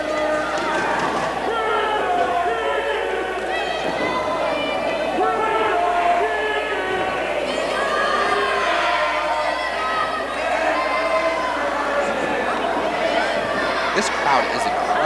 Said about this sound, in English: This crowd is incredible.